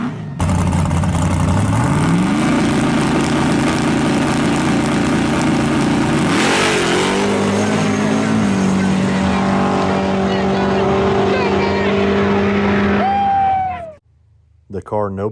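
A nitrous Fox body Mustang's engine roars and revs hard at a drag race at Milan, pitch climbing through gear shifts, loud and close, then abruptly cuts off near the end.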